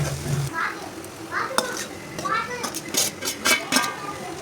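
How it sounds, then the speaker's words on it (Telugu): Pieces of bitter gourd get stirred and fried in a pan, with scraping spatula strokes and clinks against the metal over a soft sizzle, while someone speaks at the start. "మంచిగా కలుపుకొని కాసేపు వేగనివ్వాలి"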